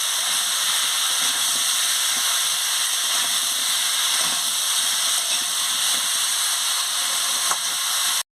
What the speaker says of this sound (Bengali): আনাজটাকে ভালো করে কষিয়ে নিচ্ছি